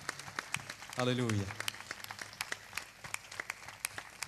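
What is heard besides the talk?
congregation applause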